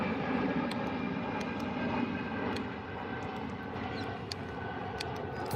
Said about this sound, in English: maybe we could see another airplane. They're just coming out right now.